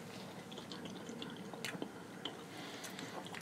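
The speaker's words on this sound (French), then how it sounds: "Je vais goûter la viande qui est au fond là dans le truc" Someone chewing kebab meat close to the microphone, soft wet squishy mouth sounds with small clicks and smacks in an irregular rhythm, quiet and alone without talk.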